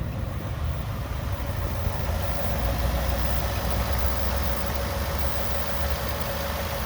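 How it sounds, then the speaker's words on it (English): A 2019 Ford F-150 SuperCrew Lariat FX4 4x4 engine idles steadily at close range, with a constant low rumble and even mechanical hum throughout, with no talk. "That engine is sounding good"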